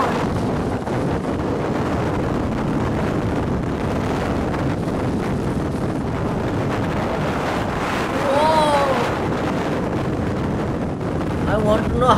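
Strong tornado wind near Wray, Colorado roars as continuous loud buffeting across the microphone, unbroken throughout, with a faint whistling rise partway through.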